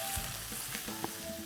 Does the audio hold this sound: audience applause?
no